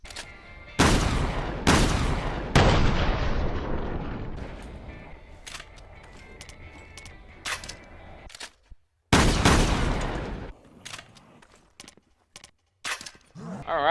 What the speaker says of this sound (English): So, first shotgun, let's test it out.